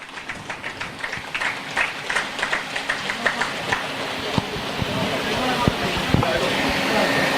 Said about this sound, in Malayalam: പ്ലീസ് നല്ലൊരു കൈയടി